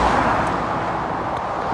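A Scania truck rolls past in steady, broadband road noise, a continuous nearby rumble and tire hiss with no distinct peaks, no talk.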